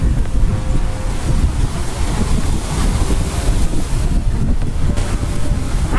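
Ocean surf rolls onto Pondicherry beach beside black rocks, a loud, continuous wash of breaking waves mixed with heavy wind buffeting the microphone.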